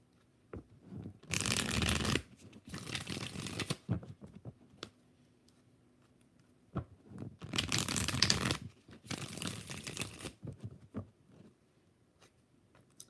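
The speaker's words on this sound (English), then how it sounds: "5 shuffles for LZ" Tarot cards are shuffled in several bursts of rapid riffling, close up, separated by quieter pauses with soft handling taps.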